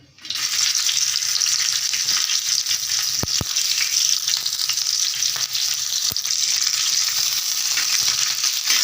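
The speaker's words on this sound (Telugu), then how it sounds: "ఆయిల్ అయితే వేడెక్కింది పచ్చిమిర్చి అయితే వేసుకుందాం" Green chillies frying in hot oil, a loud, steady close-up sizzle that continues throughout with a few faint clicks.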